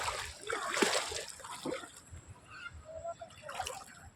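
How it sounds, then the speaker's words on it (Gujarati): Water of the Banas river flowing beneath a bridge below a dam rushes and splashes in a steady broadband wash, with someone talking over it. "સામે બ્રિજ છે બનાસ નદી ઉપર પાણી મસ્તી રીતનું ચાલી રહ્યું છે"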